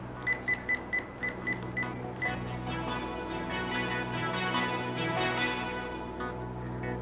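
A string of quick keypad tones beeps as a number is dialed, followed by a faint, continuous background hum.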